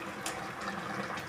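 Hot water is poured in a small stream into a pan of cooked spinach, aubergine and potato, making a brief, soft splashing trickle with a couple of brighter splashes and no talking.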